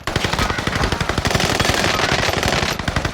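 Sustained machine-gun fire in the Warzone shooter game, rapid dense bursts with dual-wielded guns running nearly without pause, loud and close throughout.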